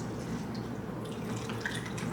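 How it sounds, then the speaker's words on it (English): Kangen alkaline water pours into a cup with a steady splashing trickle and a few brighter drips, close and continuous, with no voices. "as soon as you pour it in"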